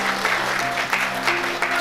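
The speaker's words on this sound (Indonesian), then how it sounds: "Tepuk tangan untuk Allah kita yang dahsyat." A wedding blessing congregation breaks into steady applause, many hands clapping together at close range, with a faint sustained tone underneath.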